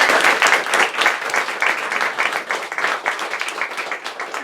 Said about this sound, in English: Would you please give our board a round of applause?